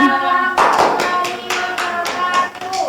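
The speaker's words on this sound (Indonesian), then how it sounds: "Beri tepuk tangan." Students in a microteaching classroom clap together at close range, a dense burst of applause that swells and continues for a few seconds with uneven rhythm.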